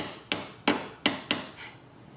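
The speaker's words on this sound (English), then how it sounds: "I'm just putting the sleeve over it and just gently tapping it into that front hole" Five sharp taps of a hammer or mallet drive a sleeve and bolt into the front hole of a RIVCO passenger arm rest on a 2018 Honda Goldwing Tour, each knock distinct and close with a short decay, evenly spaced.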